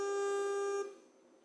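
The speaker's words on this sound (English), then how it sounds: "this is this 303 sound that I built" A synthesized 303-style sawtooth bass tone holds one steady, buzzy pitch for under a second, then cuts off and leaves faint room noise.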